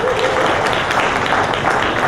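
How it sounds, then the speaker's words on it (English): Audience applause at a diaspora engagement conference, a steady dense wash of clapping across the whole stretch with a faint voice briefly audible at the start. "Another final round of applause for them,"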